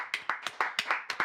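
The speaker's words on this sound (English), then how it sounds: "That was a very weak clap from me, though." One person clapping weakly at a steady, even rhythm, about eight or nine soft, close claps with no talking over them.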